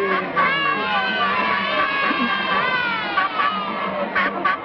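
Children in a studio audience cheer and shout together at a puppet show, a loud, sustained crowd of young voices with rising whoops and bursts of yelling.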